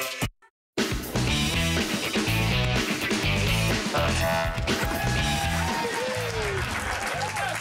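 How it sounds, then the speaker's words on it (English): Studio staff applause swells and continues after a brief silence, mixed with music and a voice over the clapping. "they applaud whenever you come on"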